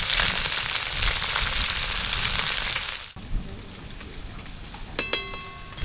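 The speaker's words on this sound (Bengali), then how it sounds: "সব মাছ ভাজা হয়ে গেছে" Small river fish, including whole local sarpunti, sizzle loudly in hot oil for about three seconds, then the frying drops to a quieter crackle with a few clinks of utensils, and no one speaks.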